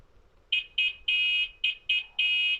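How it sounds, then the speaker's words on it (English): A children's sound book plays a car horn, six electronic beeps in a beep-beep pattern, two short pairs and longer tones, clear and close over a quiet background. "it makes a beep beep sound."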